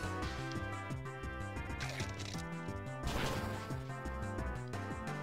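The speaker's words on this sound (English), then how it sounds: "Crunch attack." The Crunch attack from Pokémon Black strikes with a crashing, thwacking impact burst layered over loud, continuous battle music.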